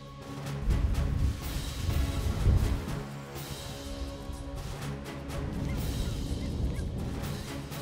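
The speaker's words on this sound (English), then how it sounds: "Those are those brant geese." Brant geese honking somewhere in the Alaskan wilderness, a loose flurry of harsh repeated calls over a soft outdoor background, moderately distant with no talk.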